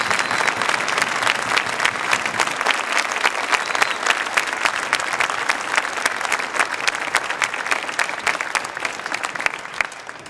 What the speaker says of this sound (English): How about a big round of applause for our marching band?